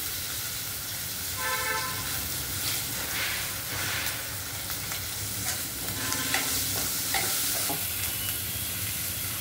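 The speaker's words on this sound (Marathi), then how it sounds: "चांगलं परतून घ्यायचं, एकदम खरपूस होईपर्यंत परतून घ्यायचं सर्व गोष्टी" Okra sautéed with curry leaves, green chillies and ginger-garlic paste in a pan gives a steady close sizzle and frying crackle, with repeated scraping and clinking of a spatula stirring throughout.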